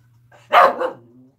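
A pet dog gives a single sharp bark at someone out front, close and loud over a faint low hum, then quiet.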